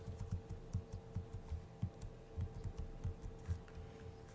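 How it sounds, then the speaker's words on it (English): Rapid keystrokes on a computer keyboard tap in a steady, uneven patter over a low background hum during a casual live stream, with no talking. "you hear the stupid keyboard thingy so loud"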